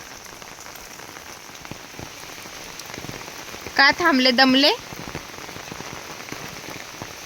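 Steady rain falls on a flooded paddy field in Konkan, a constant close hiss that runs the whole time, broken once midway by a short spoken remark.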